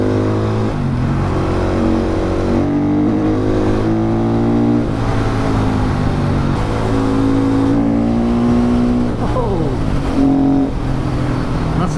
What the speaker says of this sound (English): For a standard exhaust, it's not too shabby, but it definitely needs some more brap.